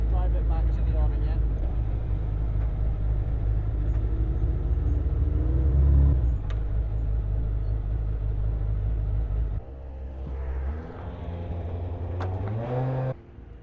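A racing car idles and rumbles at low speed as it is driven back to the awning after a track session, its engine note shifting with brief revs, a drop in level partway through and a final rise.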